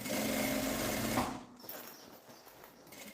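A sewing machine runs fast for about a second, stitching a handbag lining close to the edge, then stops, leaving quiet room tone and faint handling noise.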